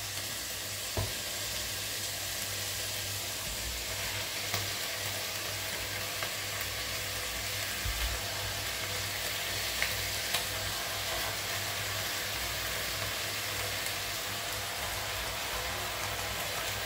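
Tuna sizzles and fries in a pan with a steady, bright, hissing crackle, broken now and then by faint scrapes of stirring, and no speech.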